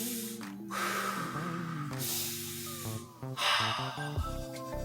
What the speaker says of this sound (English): Just breathe with me.